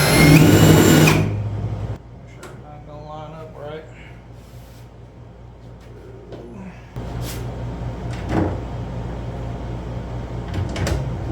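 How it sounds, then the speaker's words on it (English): A power drill bores holes through the sheet metal of a square-body Chevy C20 truck. There is a loud burst at the start, then quieter scraping and handling, then a steady whirring drill run. "So I'm going to go ahead and drill out these other holes."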